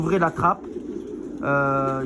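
Young pigeons at a pigeon loft give soft, close coos in short bursts, with a pause in the middle before a longer sustained call.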